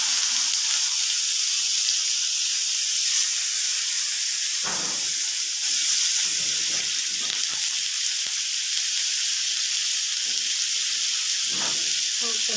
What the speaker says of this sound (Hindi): अब हम इस पे सीख रखते हैं और इसे मीडियम आंच पे ही पकाना है